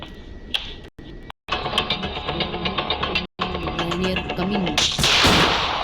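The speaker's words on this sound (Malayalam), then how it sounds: "ഈ ഗെയിമിലെ ലെഗസിയിൽ വെടിവെക്കുമ്പോൾ ബ്ലഡൊക്കെ തെറിയും" Gunfire in the horror video game Granny Legacy, a dense run of sharp shots and impacts with several brief silent gaps and a louder burst near the end.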